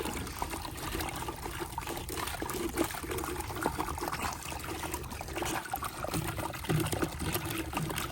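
A garden hose washing water through a 1.5 inch drain line dug into yard soil, a continuous close trickling and gurgling flow with no talk.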